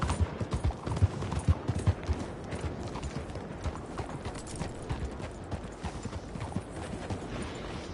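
Rhythmic clip-clop of horse hooves trotting steadily over ground in the video game Red Dead Redemption 2, close and continuous, with faint background ambience.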